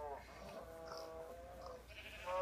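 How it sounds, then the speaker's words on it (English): Sheep bleating in Minecraft, a wavering tonal bleat rising and falling over a couple of seconds, moderately loud against a faint background. "We don't really need sheep"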